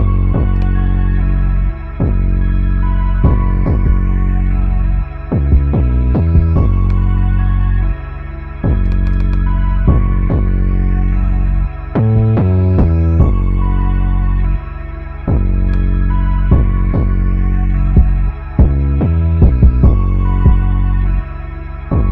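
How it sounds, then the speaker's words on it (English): Punchy kick drum programmed on an Akai MPC One sampler, repeating in a steady beat pattern alongside other drum hits, loud and dry with short gaps between phrases. "That's where you want your kick drum to sit at"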